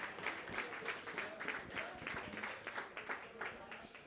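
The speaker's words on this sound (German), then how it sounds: "Ich denke, ein großer Applaus auch immer wieder für Christel." Brief applause from the audience at a live Eintracht football fan talk, clapping in a room under a voice that keeps speaking over it.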